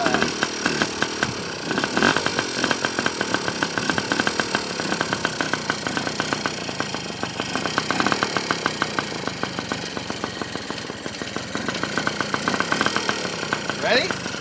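Motocross dirt bike engine kick-started and then running at a rough, rapid idle with revving, loud and close beside a pool and track, with people talking and cheering over it.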